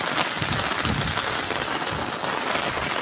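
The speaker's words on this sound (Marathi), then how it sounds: "बघा पाऊस बघा मित्रांनो पाऊस किती जोरदार चालू पाऊस आहे" Heavy monsoon rain in Mankhurd pouring steadily, a dense continuous roar of drops hitting surfaces close by, with water pooled below.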